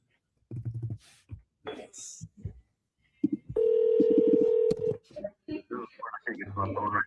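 Telephone tones while placing a call back, with a steady ringing-style tone of about a second amid short bursts of someone talking before and after.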